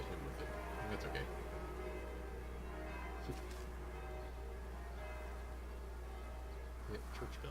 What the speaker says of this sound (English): Yep, church bells. Forsaken Sanctuary.